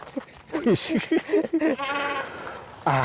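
Sheep bleating repeatedly at a goat and sheep farm before Qurban, with several harmonic bleats close by and one more at the end, while people talk over and around them.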